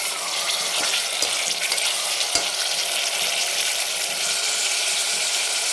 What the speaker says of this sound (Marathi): तर आता याच्यात आपण टाकून घेऊ मटण आणि तेलावरती छान परतून घ्यायचे.